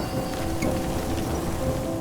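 Heavy rain falls in an animated Hindi story, a dense steady hiss of downpour with no pauses, moderately loud and continuous, with no voices over it.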